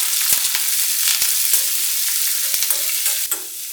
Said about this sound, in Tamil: போட்டு நல்லா வதக்கி விடுங்க.